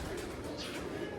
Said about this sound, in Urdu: ان کے پاس بینک والے کبوتر ہیں پرانے